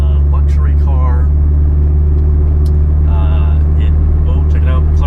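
Toyota MR2 sports car with a manual gearbox driving on a multi-lane road, its engine a steady loud droning rumble from inside the cabin, with a voice talking over it intermittently.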